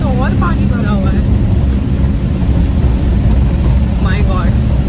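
Heavy rain pours in a steady, loud, dense hiss that fills the whole stretch, with brief chirping vocal sounds at the start and near the end.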